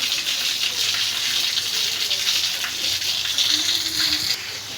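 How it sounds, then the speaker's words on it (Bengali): Water pours and splashes steadily as a full water tank overflows in a village, forming a continuous near gush that never stops. "ট্যাঙ্কি কিন্তু বোঝা হয়ে গেছে, জল কিন্তু অপচয় নষ্ট হইতেছে"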